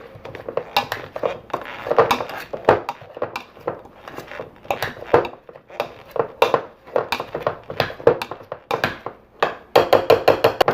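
Potatoes are mashed with a stick of melted butter in an Instant Pot, giving a run of repeated thuds and clanks of the masher against the metal pot, steady and close by.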